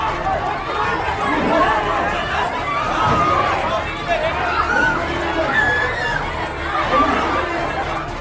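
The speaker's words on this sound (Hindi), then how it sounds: "जिस गली में भीड़ पुलिस से भिड़ रही है" Crowd clashing with police in a narrow street by a mosque, a loud agitated hubbub of many shouting voices and footsteps that surges and falls continuously.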